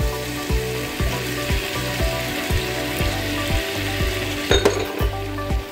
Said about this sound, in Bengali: পোস্ত বাটাটাকে ভালো করে কষাবো যাতে পোস্ত বাটাটা থেকে তেলটা ছেড়ে আসে।